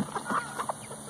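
Rescue hens newly brought to a temporary quarantine pen give several soft, close clucks in a quick irregular series, fairly quiet and with no talk over them.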